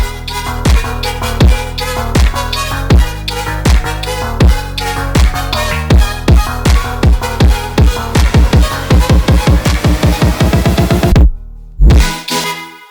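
A punchy funk beat drives along with steady kicks, sharp claps and a short melodic line, building in density before a brief drop near the end.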